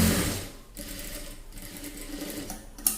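A sewing machine stitches chudi pant fabric with a steady, continuous whir that runs close and alone, pausing briefly a couple of times before a sharp click at the end.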